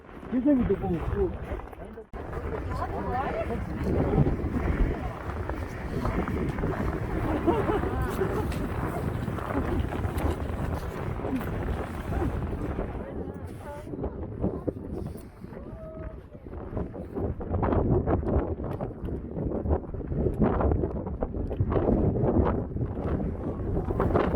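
Strong wind roars across the snowy, rime-frosted summit of Hyangjeokbong on Deogyusan, buffeting the microphone in a loud, continuous gusting rush, with voices faintly underneath.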